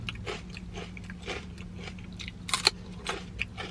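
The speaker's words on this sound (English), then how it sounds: "Now I'm gonna have a bite of celery with ranch." Someone biting and chewing celery dipped in ranch, close-up crunchy bites in an irregular rhythm over a low steady background hum, with no talking.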